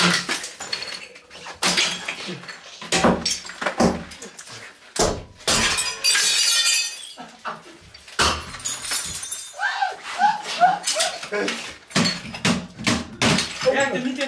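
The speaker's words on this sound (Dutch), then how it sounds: "Je slaat het glas door terwijl ik er naar kijk." Glass panes and a mirror are smashed repeatedly during a wrecking session, with a series of loud, sharp shattering crashes and tinkling debris, while people talk and shout between the hits.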